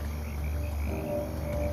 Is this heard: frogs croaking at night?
yes